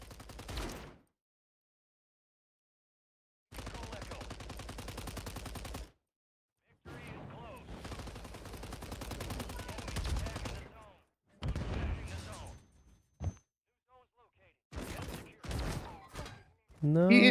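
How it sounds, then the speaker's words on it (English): An EMP gun fires in Warzone 3, with bursts of rapid gunfire separated by silent gaps and players talking over the action. "It is an EMP gun."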